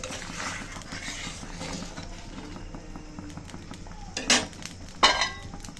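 Rohu fish curry with potato and drumstick stems stirred and mixed in a pan, soft scraping under a low simmer, with two sharp metallic clinks of a spoon against the pan near the end.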